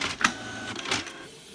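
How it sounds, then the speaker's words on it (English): A Canon PIXMA TS202 inkjet printer runs a color print, giving short mechanical whirs and clicks from the feed and print head, close and fairly quiet. "So it should start printing now."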